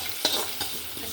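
Tomato egg curry mixture hitting a hot pan, a steady hiss of sizzling with a few sharp spatter bursts and faint scraping, close and fairly quiet, no talking.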